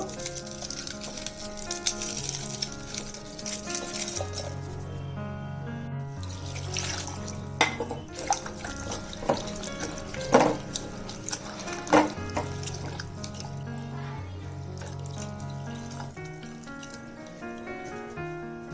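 Water runs and splashes in a sink while agar strands are rinsed by hand, with intermittent sloshing and clinks over a steady background.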